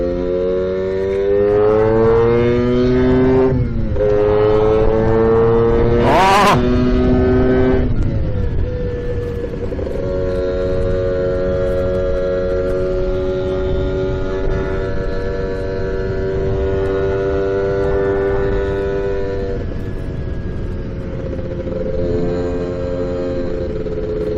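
Two Lambretta scooters, a BGM Clubman Sport and an Avanti ex box ST, accelerate hard side by side in second gear. Loud, close two-stroke engine tones climb in pitch, then hold a steady high drone, with no voices.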